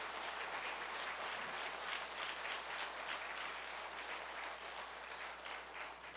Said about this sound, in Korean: 박수 좀 한번 쳐드리세요.